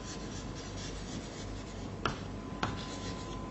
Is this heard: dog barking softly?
no